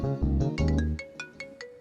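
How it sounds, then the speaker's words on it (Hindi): A phone ringtone for an incoming call chimes in a Hindi-dubbed South Indian movie scene, a bright, close electronic melody of repeated tones that plays alone. "अरे हाँ, उसी का फोन आ रहा है।"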